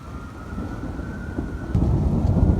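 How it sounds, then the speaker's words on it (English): A thunder rumble from a lightning strike during a rainstorm, heard while riding in Alberta, builds into a loud, deep roll near the end over steady rain hiss, with no talking. "Here comes the thunder."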